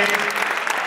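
Audience applause at a Grenadian community gathering at Brooklyn College for Prime Minister Keith Mitchell, a brief, dense burst of clapping filling the hall without a pause.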